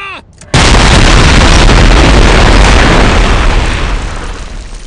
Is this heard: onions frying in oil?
no